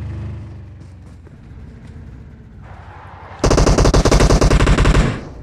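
Automatic gunfire in the mobile battle royale game PUBG Mobile, a loud sustained burst of rapid shots that begins suddenly after quieter engine-like rumble and lasts about two seconds before stopping.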